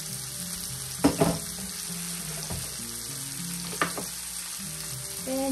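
Shrimp fry in a pan with a continuous sizzle, punctuated by a couple of louder clattering stirs or tosses, close by and with no talking.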